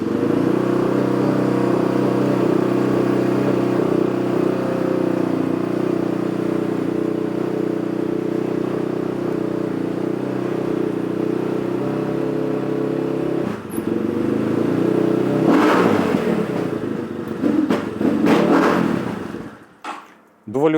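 A JHL RMX 250 motorcycle with an aftermarket exhaust idles steadily with a low drone, then revs up a few times with rising bursts before cutting off.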